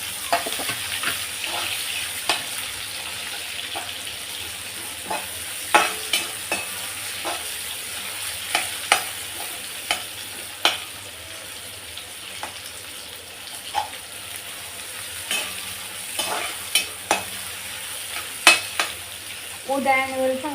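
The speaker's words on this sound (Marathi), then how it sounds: "आपण आता ह्याला चांगलं लाल होईपर्यंत परतून देते" Curry leaves and cumin sautéing in a kadhai for pulao, a soft steady sizzle punctuated by repeated sharp scraping stirs against the pan, fairly quiet and close, with no voices.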